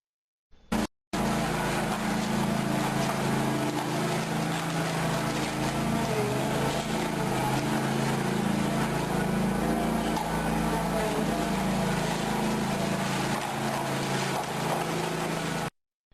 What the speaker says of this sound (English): A worker is driving the machine as it removes ceramic tile from the floor.